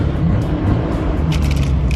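A Nissan Skyline GT-R R34 with Nismo cluster idles steadily, a low, even engine rumble close by, with faint clicks and rattles over the top.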